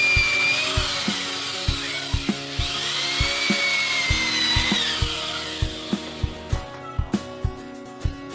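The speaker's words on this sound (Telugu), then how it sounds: "ఇప్పుడు ఈ విధంగా డ్రిల్లింగ్ హోల్స్ వేయాలి." A power drill boring holes into a wooden window frame, with repeated sharp knocks at a steady rhythm and a whining motor, close and moderately loud, with no speech.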